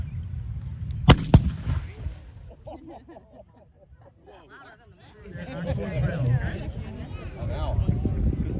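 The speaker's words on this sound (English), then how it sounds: "Gun is ready to fire." Ceremonial gun firing on Carolina Day in Charleston, one sharp, loud blast followed by a quick second crack, then people talking in the quieter gap and crowd chatter rising afterward.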